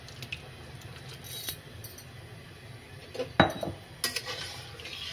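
Fried pointed gourd (potol) is added to a pan of poppy seed paste, with faint, sparse metallic clinks and taps of utensil against cookware and one sharper clink amid quiet kitchen background.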